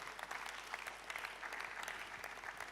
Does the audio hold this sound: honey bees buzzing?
no